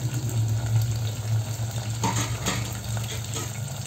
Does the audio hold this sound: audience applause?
no